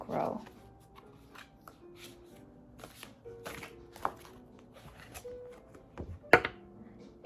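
Tarot cards are shuffled by hand in soft, uneven bursts of riffling and tapping, fairly quiet and close, with a voice talking now and then.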